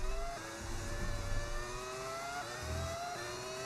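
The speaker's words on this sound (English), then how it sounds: "I've got a mod that makes it sound like a V10 from back in the day." A Formula 1 car in the F1 26 racing game, modded to sound like an old V10, whines at high pitch and rises through the gears, heard steadily in a game mix at moderate level with no speech.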